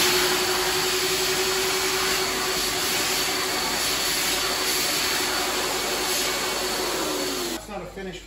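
A steady, loud whining roar of a wet vacuum running continuously with a high-pitched hum while cleaning grey paint off terracotta tiles, cutting off near the end.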